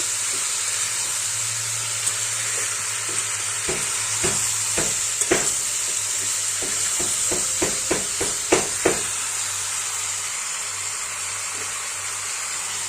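Ginger and cumin paste sautéing in a pan for a fish curry with greens, a steady sizzling hiss broken by scattered sharp taps and scrapes of a spoon stirring, plus a low hum in the background.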